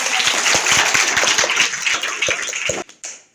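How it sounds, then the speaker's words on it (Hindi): An audience claps loudly for a fireman at a fire-safety awareness event, a dense, close round of applause that cuts off abruptly near the end with a few stray claps. "उनके लिए एक बार जोरदार तालियां।"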